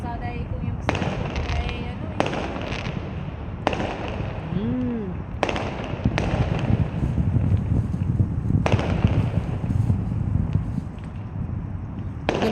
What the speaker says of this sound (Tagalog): Mas maganda yung fireworks nila ngayon ah.